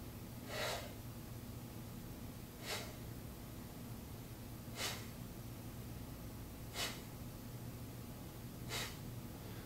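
Forceful yoga breaths in Bhastrika pranayama: five short, sharp rushes of air, evenly spaced about two seconds apart and fairly close, over a steady low background hum.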